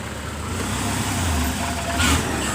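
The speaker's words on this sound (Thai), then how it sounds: "รถไถครับ" A farm tractor's engine runs steadily and fairly loud at a work site where loads are being tipped, holding a low continuous drone with a brief swell near the end and no talking.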